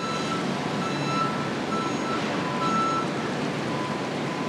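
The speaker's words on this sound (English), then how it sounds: "Trucks are backing up." Trucks backing up on a jammed Fulton Street, their reversing alarms sounding a steady run of high beeps over a constant wash of city traffic noise.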